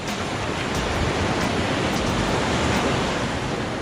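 Steady, dense roar of surf washing onto a beach, continuous and fairly loud with no voices over it.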